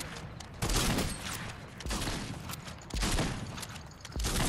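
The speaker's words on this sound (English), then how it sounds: "This is the new best shotgun in the game." Shotgun blasts in the video game Fortnite, several loud booming shots spaced about a second apart with dense noisy bursts in between.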